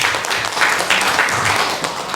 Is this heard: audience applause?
yes